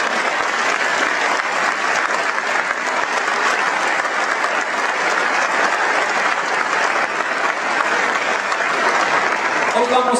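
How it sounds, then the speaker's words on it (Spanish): A church congregation claps continuously, a dense, loud, unbroken roar of applause that holds steady for the whole stretch. "Dale un aplauso a la palabra del Señor."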